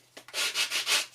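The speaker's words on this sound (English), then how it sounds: "sanding tool down the edge, and it's just to knock off any of the not quite flat edges." A sanding tool rubbed down the edge of a handmade paper card, four or five quick, close scratchy strokes in an even rhythm, alone and quiet.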